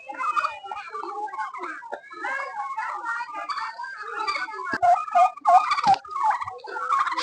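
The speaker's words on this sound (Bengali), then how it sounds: "এখানে বেশ কিছু টার্কি মুরগি আছে।" White turkeys at a Sundarban picnic spot gobble continuously, several birds overlapping in a dense chorus of warbling calls with louder bursts near the end.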